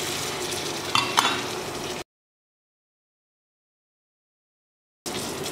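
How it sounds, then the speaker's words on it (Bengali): Spice paste with potatoes and a little added water sizzles in a pan while being stir-fried, a dense frying hiss with a couple of spoon scrapes, cut off by a few seconds of silence before resuming. "পানিটা দিয়ে আমি মশলাটাকে কষিয়ে নিচ্ছি"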